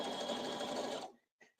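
A sewing machine runs steadily while stitching a jelly roll quilt topper, with a dense, continuous whir for about a second before stopping abruptly, followed by a couple of brief faint mechanical clicks.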